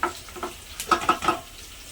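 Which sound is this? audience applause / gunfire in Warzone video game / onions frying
onions frying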